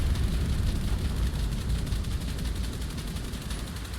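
A BMP vehicle in War Thunder fires its gun in a dense, continuous roar of rapid shots, loud and unbroken across the whole stretch, with no voice over it.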